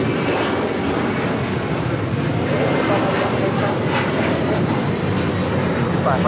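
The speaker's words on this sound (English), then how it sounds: "This is Alaska Airlines 1418 taking off to Guadalajara on a 737-900ER." An Alaska Airlines Boeing 737-900ER jet takes off from LAX, its engines making a steady, loud broadband roar that holds without a break from start to finish.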